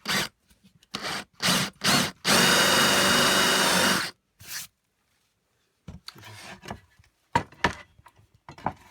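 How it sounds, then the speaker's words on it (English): Chiselling wood for a large toy train with a chisel and mallet: a run of short, sharp knocks and scraping bursts, then one long rasping scrape of about two seconds, followed by quieter scattered taps, close and loud. "There you go, and a bit of careful chiselling."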